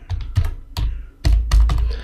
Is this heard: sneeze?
no